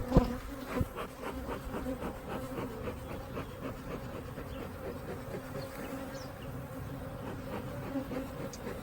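Honeybees buzz in a dense, continuous drone around an opened single-brood-chamber hive being smoked during a June split, with a knock or two at the start and no voices.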